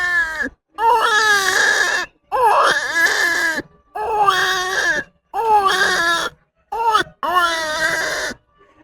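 A voice mimics a baby crying in repeated wailing bursts, about six cries separated by short pauses, loud and close.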